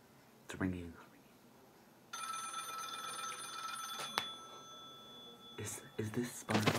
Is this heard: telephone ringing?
yes